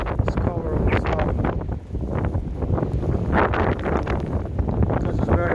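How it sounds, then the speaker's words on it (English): Strong wind buffets the microphone during a snowstorm in Streeterville, Chicago, a steady loud roar with gusty surges and rustling throughout, close and continuous with no voices. "Because it's very, very windy."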